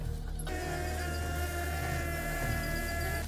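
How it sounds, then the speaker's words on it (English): A wild honeybee colony buzzes in a tree, a dense, steady hum of many bees that stays close and even for the whole stretch with no voices. "to find and bring home an entire wild hive"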